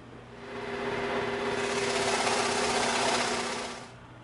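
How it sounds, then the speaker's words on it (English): A scroll saw cuts through EVA foam, its motor humming up to a steady buzzing drone with a rapid, rattling reciprocating blade that holds for several seconds before winding down, close and alone. "Actually, we're gonna cut that out on the scroll saw."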